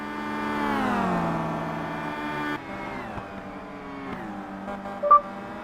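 WTCC racing cars, including a line of BMWs and a Chevrolet, in the Simraceway video game. Their engines drone with strong harmonics and fall in pitch as they pass, and a brief beep sounds near the end.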